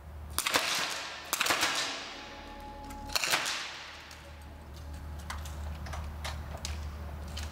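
Small-bore rifle shots from a women's 50 m three-positions match, sharp cracks ringing out a few seconds apart over a steady low hum of the range, with faint clicks between.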